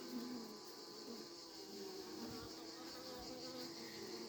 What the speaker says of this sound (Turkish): Bayağı arılar üzerine yoğunlaşıyor gördüğünüz gibi.